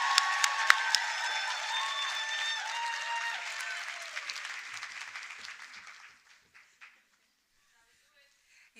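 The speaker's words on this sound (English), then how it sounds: "Please, let's clap hands for Julius." Audience at a university conference clapping for a man named Julius, a brisk burst of applause with a few voices mixed in that thins out and stops after about six seconds, leaving near silence.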